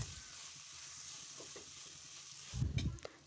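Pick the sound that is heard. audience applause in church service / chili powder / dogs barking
chili powder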